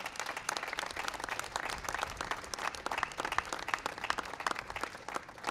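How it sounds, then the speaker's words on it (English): Audience applause fills a White House ceremony honoring the UConn Huskies team, steady dense clapping from a large crowd throughout, moderately loud and without talk. "That is worthy of some applause."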